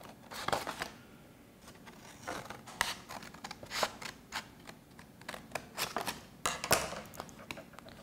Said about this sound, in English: You're going to take your scissors and cut a triangle out.